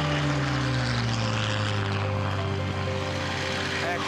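A Spitfire's piston engine drones loudly and steadily in flight, heard close from the cockpit with a deep, even propeller roar and no breaks.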